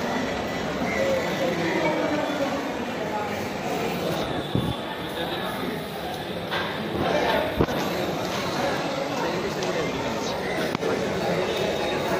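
Busy outdoor ambience at Guwahati railway station: a steady wash of crowd chatter and distant rail noise, with occasional sharp knocks and clanks.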